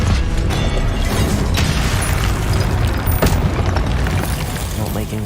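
An Incendio fire spell goes off in the Hogwarts Legacy video game amid busy combat noise, with a steady loud rumble broken by sharp cracks and booms and speech-like sounds mixed in.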